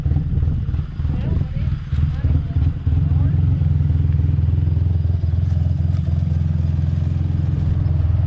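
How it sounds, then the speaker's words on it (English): A truck engine with a cammed idle runs loud and close, its lumpy, uneven idle loping steadily throughout with a brief rougher patch early on. "That's a cammed idle."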